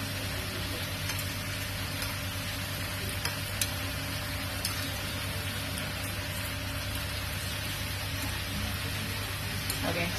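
Pancake batter frying in hot oil over a gas flame on high, a steady dense sizzle with crackling that continues evenly throughout.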